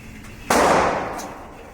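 A single sharp, loud gunshot at an indoor gun range cracks out and rings away quickly, with faint background noise before and after.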